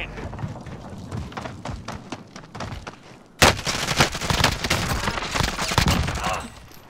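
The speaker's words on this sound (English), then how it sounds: "Taking direct fire." Gunfire crackles in the Verdansk battlefield of a Call of Duty game, with scattered shots followed by a sudden loud burst of heavy firing and blasts that continues densely, close and intense.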